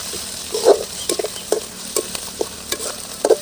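Ground ginger garlic paste sizzles and fries in a hot pan for a mushroom gravy, with repeated stirring scrapes breaking through the steady crackle at an irregular rhythm, close and fairly loud.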